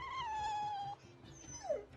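A dog whimpers in the Tales of Berseria game: one long, high, steady whine that breaks off partway through, then a shorter rising yelp near the end, both clear and close over a quiet background.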